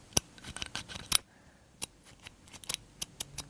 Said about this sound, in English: this is the sound of the trigger.